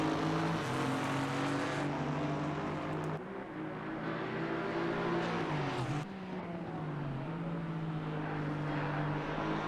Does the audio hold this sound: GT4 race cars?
yes